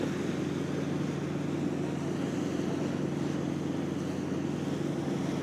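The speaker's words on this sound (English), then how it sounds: "just the noise of the water" Water rushes steadily past an ocean boat on a sunny ride, a broad continuous wash mixed with wind rumble and engine drone, with no voices.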